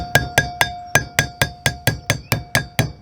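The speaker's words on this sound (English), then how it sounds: "Just always used a hammer." A hammer strikes metal in a steady run of about a dozen sharp, ringing taps, evenly spaced and close by, driving a seal into an RV wheel hub.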